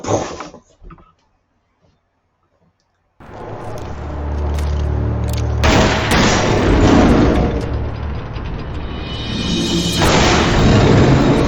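Double shotgun blasts in a video game hit hard after a quiet start, opening into a loud, sustained roar of booming gunfire and explosions that stays dense and heavy to the end.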